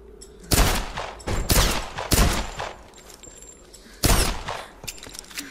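Pistol gunshots in Tomb Raider Definitive Edition, four sharp, loud single shots spaced about a second apart, each with a short echoing tail in a tomb setting.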